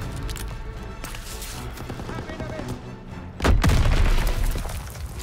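A pole charge explosion in Call of Duty WW2 goes off as a single loud, deep boom partway through, over ongoing in-game battle noise and gunfire.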